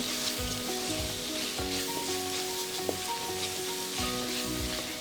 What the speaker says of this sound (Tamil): இந்த மாதிரி வெங்காயம் வதங்கும் போது கொஞ்சம் வந்து சால்ட் சேர்த்துக்கிட்டிங்க அப்படின்னா வெங்காயம் கொஞ்சம் வேகமாக வதங்கும்